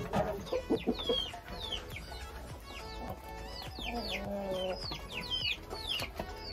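Village chickens held in cages cluck and call repeatedly, a dense chorus of near and moderately loud clucks with occasional rooster-like cries and rustling, and no clear talking.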